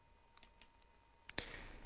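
A computer mouse being left-clicked during 3D software work, with faint light clicks followed by a sharper, closer click near the end over quiet room noise.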